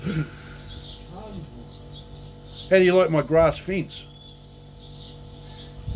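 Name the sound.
birds chirping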